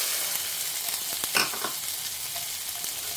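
Frying in leftover oil in a pan, a loud, dense, continuous close-up sizzle with a few brief stirring scrapes and crackles, no voices.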